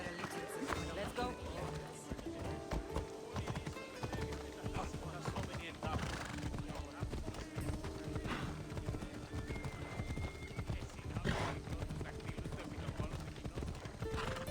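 A horse gallops in the Assassin's Creed Odyssey video game, its rapid clip-clop hoofbeats steady and continuous under game music and sound effects, with people talking over it throughout.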